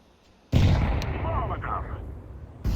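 A grenade detonates in a video game with a sudden loud blast that rolls off over about two seconds, and a second burst starts just as it ends.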